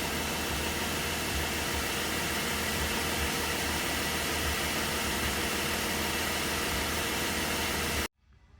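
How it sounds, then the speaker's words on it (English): A Volkswagen Touareg engine runs steadily, giving a constant, broadband roar and hiss close by that cuts off abruptly near the end, with no talk. "Now we let it run until it hits 100."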